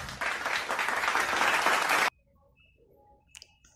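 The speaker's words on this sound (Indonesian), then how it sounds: "Yuk kita berikan tepuk tangan untuk kelompok 2." A classroom group claps for a student group, a dense burst of applause lasting about two seconds that stops abruptly and leaves near silence with a faint click afterward.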